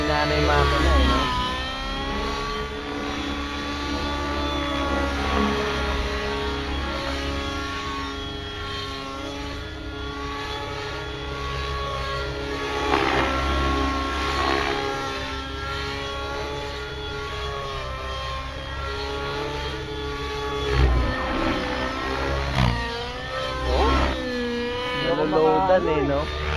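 A T-Rex 700 RC helicopter engine with a worn bearing runs steadily as a high, droning mechanical whine that swells and dips slightly under load, while people talk nearby throughout.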